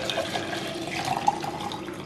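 Juice pouring back into a blender jug, a soft continuous liquid trickle and splash, close and moderately loud, heard alone without talk.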